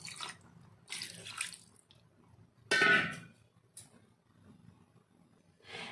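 Water poured from a vessel into a pan of potato and pointed gourd curry, a short splashing burst standing out over faint kitchen background noise.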